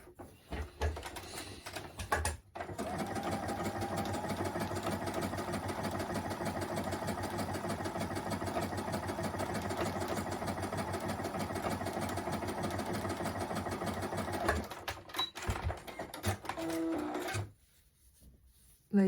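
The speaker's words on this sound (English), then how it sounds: "So on my machine, 3 is a stretch stitch and 9 is a stretch stitch." Domestic sewing machine running a stretch stitch through striped jersey fabric, a steady fast mechanical whir and needle clatter held for about twelve seconds, stopping, then briefly restarting in short bursts before falling quiet.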